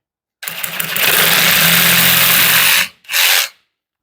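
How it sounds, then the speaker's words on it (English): A power tool cuts a slit into the end of a PVC pipe, a loud, steady whining roar that runs for about two and a half seconds, stops briefly, then bursts again for a short moment, with no talking. "now we can spin it around and cut the slit in the other end"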